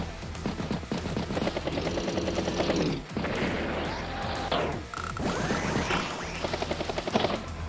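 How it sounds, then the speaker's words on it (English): Recon unit firing at an anti-air unit in Advance Wars by Web, a burst of rapid gunfire and crashing impacts repeated over several seconds, loud and dense. "Recon taking a shot at the anti-air."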